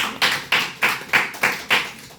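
Six evenly spaced claps ring out in a slow, steady rhythm, close and fairly loud, each with a short decay, during a sales pitch to a crowd.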